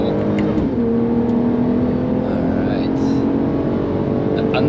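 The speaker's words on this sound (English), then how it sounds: "Unmistakable noise of a VR6 or an R32" A VR6 or R32 engine car revs with a smooth, sustained tone that slides steadily upward in pitch, loud and close throughout.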